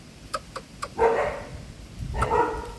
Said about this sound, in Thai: หมาเห่าเห็นไหมหมาเห่าอะไรลูก